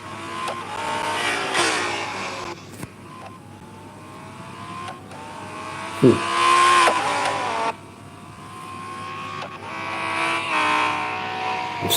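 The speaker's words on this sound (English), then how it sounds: "This car is really fast." A race car engine in the mobile racing game Real Racing 3 whines and revs up through rising gear pitches, with a sharp thump midway and shifting engine tones, no voices.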